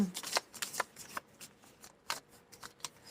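Chakra cards being shuffled and handled close by, a series of quick papery riffles and flicks in irregular bursts, with no speech over them.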